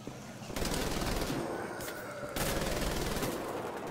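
Rapid automatic gunfire in Wolfenstein: The Old Blood, loud and close, with dense sustained bursts separated by a brief pause and no voices.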